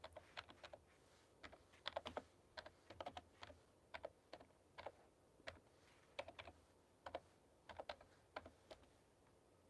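Fingers tap on a computer keyboard in quick irregular bursts of crisp key clicks, faint and close in an otherwise quiet room.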